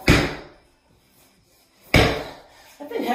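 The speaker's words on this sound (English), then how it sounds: "I've been heavy on the slams this last week and this week." Two heavy medicine ball slams during a timed workout circuit, each a loud sharp impact followed by a decaying thud, about two seconds apart, with a faint voice near the end.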